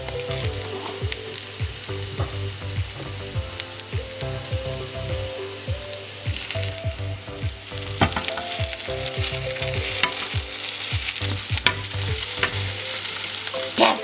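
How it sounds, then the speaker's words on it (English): Nutella French toast rolls sizzle and spit steadily in a frying pan, a loud close crackle that grows denser and brighter partway through, with no voices over it. "we're going to let these cook for between 3 to 4 minutes on each side"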